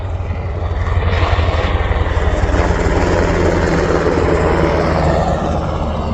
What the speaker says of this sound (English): It's just a cool helicopter. They're probably just flying around, flying over the beach.